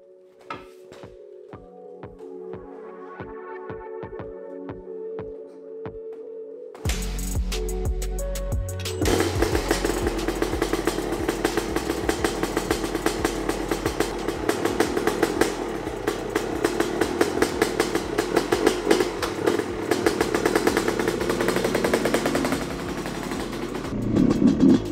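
A Honda CR250 two-stroke dirt bike engine idles with a rapid ticking, then roars up loud and stays at a steady high buzz as it is ridden nearby during break-in.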